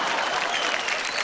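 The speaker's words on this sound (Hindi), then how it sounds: "जोरदार तालियां हो जाए।" Loud, dense applause from a studio audience at a televised kids' dance competition, steady clapping filling the whole moment with no voices over it.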